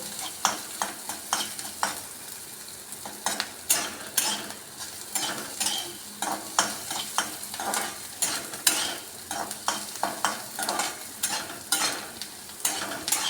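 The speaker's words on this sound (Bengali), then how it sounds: "যতক্ষণ না ভাজা ভাজা হবে আমি ততক্ষণ এটা পেঁয়াজটা নাড়তে থাকবো" Onion fries in a pan for a spicy tomato chutney while a spoon stirs it in repeated scraping strokes over a constant sizzle, fairly close and without speech.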